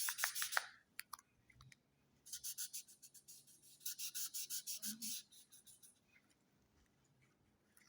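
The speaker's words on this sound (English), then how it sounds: "The magic eraser is so strong on this blue." Magic eraser scrubbing across the blue cover of an X-Men #1 comic book: two bursts of quick, rhythmic back-and-forth rubbing strokes, close and fairly quiet, with a short pause between them and no talking.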